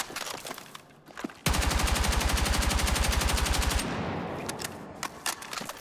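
A rapid burst of video game gunfire, loud and continuous automatic shots in an even rhythm lasting about two seconds, then stopping into quieter background game sounds.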